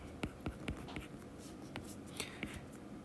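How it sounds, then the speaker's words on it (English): Quick, soft taps and strokes of a marker or chalk writing a math expression on a board, several short marks in a halting rhythm, close but quiet, with no talking. "I'm just going to go ahead and write X plus 4"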